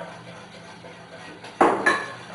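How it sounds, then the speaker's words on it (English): A spoon stirs cream in a pot for a lemon cake, with soft scraping under a low background hum and then two clear clanks of metal against the pot near the end. "we don't stop to mix and to watch the pot to don't burn the cream"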